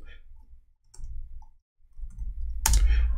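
A few crisp clicks of typing on a computer keyboard, close and brief, over a low background rumble.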